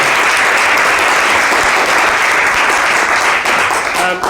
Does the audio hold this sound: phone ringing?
no